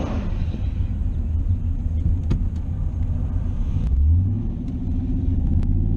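The Chaos Theory Camaro race car engine rumbles low and loud nearby, its pitch rising briefly as it is bumped into second gear.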